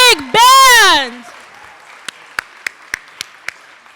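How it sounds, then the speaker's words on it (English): After a loud voiced whoop, the audience at a Night of Hope charity event gives the big band a thin round of scattered handclaps. The claps are sparse, spaced and fading. "Give them another round of applause."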